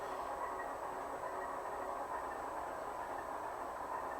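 Model train sound decoder with its pitch lowered gives a steady, continuous low rumble and rail hiss, with a faint constant high whine over it and no pauses or distinct beats.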